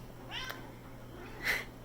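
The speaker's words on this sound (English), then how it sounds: "Now he meows." A cat meows twice, a short rising call followed by a louder, higher one, close to the microphone in a quiet room.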